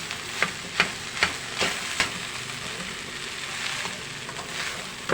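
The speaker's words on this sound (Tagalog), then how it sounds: "Sagad po natin ang halo para hanggang dulo ay madamay." Spoon scraping and stirring breakfast food in a sticky, poor-quality wok, with about five sharp scrapes in a steady rhythm over a continuous close sizzle of frying.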